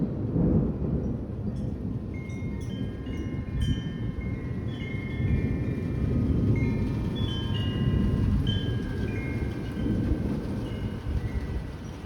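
A huge thunderstorm over Middleburg rumbles continuously with deep, rolling thunder and steady rain, loud and close throughout, with faint high chirps above the roar and no talking.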